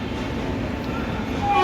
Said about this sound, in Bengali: শুধু ট্রেন যাচ্ছে উপর দিয়ে